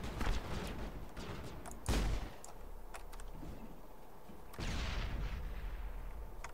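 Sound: gunfire in Mass Effect video game

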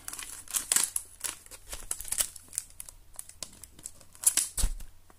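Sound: football card pack wrapper being torn open

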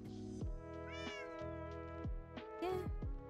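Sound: cat meowing in the video game Minecraft

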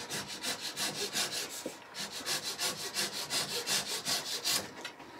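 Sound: hand sawing pieces of timber

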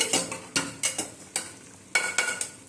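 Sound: stirring raw papaya gravy as it starts to boil

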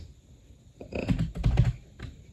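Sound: typing on a computer keyboard

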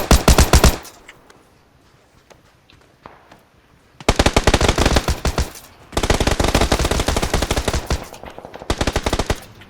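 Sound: gunfire in the video game PUBG

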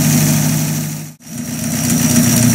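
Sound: Buick Roadmaster car engine idling after throttle zap

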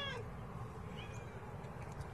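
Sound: cat meowing

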